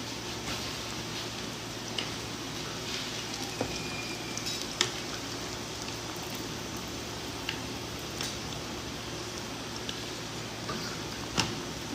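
Chicken mayonnaise cutlets fry in a pan with a steady, soft sizzle throughout, broken by a few faint ticks and taps.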